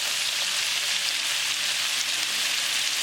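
Fish pieces frying in hot oil for chilli fish, a steady, loud, close hiss of sizzling bubbles that holds evenly throughout with no talking.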